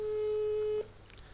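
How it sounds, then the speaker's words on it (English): One long, steady telephone ring tone sounds during an unanswered outgoing call, then cuts off, leaving quiet room noise. "It's ringing."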